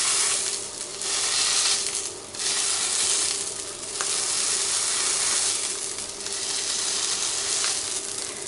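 A sausage meat patty fries in a pan, giving a continuous close hissing sizzle that swells and eases in waves, with no talking.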